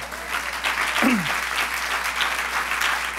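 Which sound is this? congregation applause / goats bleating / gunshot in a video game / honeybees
congregation applause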